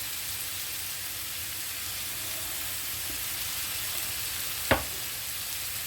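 Salted and peppered food starting to cook in a pan on a stovetop, a steady, even sizzle with one sharp knock from a utensil near the end, no talking.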